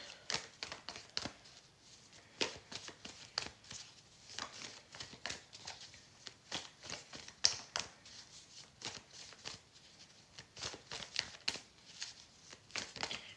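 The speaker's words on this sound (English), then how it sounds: "We're really shuffling these cards." Tarot cards being shuffled by hand in quick, uneven bursts of crisp riffling taps and slaps, close and quiet, continuing alone without talk.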